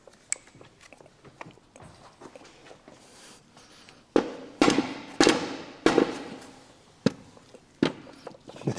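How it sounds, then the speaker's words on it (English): A D-series Honda gearbox is knocked against the ground to seat its bearing into the circlip, giving a run of about eight loud, sharp, heavy thuds at irregular intervals, with quieter handling clatter beforehand. "we're just going to give the gearbox a few taps on the ground and just seat the bearing into the circlip"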